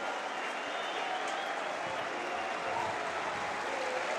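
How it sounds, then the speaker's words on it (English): Stadium crowd at a Barcelona football match applauds as Arturo Vidal warms up, a steady, distant wash of clapping and crowd roar that holds even throughout. "I think the applause is for Arturo Vidal, one of the players warming up"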